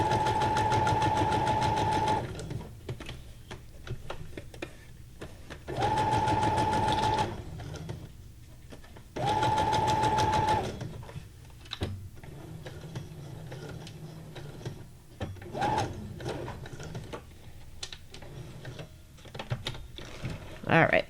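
A sewing machine stitches curvy lines with thread while making junk journal ephemera, running in three loud, steady bursts of about two seconds each. Quieter handling noises and rustling fill the gaps between the bursts.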